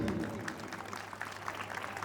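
Audience applause at a school annual day ceremony, fairly faint scattered clapping from a crowd in a hall, with a low steady hum and some murmuring voices beneath.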